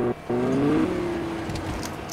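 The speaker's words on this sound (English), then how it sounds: "those cars are loud." A loud car engine in the Fortnite video game revs and drones steadily for about two seconds after a brief dip, close and prominent, with no talk over it.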